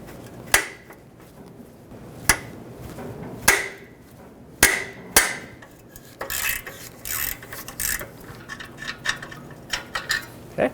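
Five sharp metallic hammer strikes drive a 14 mm socket onto a rusty bolt on a Nissan Pathfinder, ringing out at irregular intervals, followed by scraping and rattling clinks of metal on metal.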